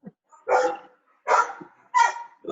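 A dog barks three times in a steady, evenly spaced rhythm, each bark loud and clear from a short distance, with no voices in between.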